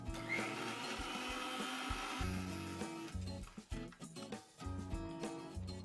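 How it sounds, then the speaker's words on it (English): Mixer grinder whirring through a masala paste of water, turmeric and asafoetida, a loud steady motor drone that cuts off partway and restarts in short uneven pulses. "Let's grind this once again."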